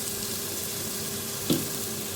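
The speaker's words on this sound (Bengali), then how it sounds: "এবার দিব আদা আর রসুন বাটা" Ginger-garlic paste fries with lightly browned onions for a mutton curry, giving a steady, fairly faint sizzle with a single brief clink or scrape partway through.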